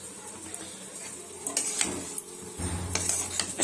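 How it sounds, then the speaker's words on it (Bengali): Mustard greens with eggplant and peas are stir-fried in a pan, with a soft sizzle under repeated scraping and clinking of a spatula against the pan, close and moderately loud. "সর্ষে শাক ভাজা করছি"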